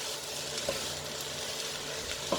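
Onions caramelizing in a pan for French onion soup, a steady dense sizzle with a few soft scrapes of stirring, close and continuous with no talking.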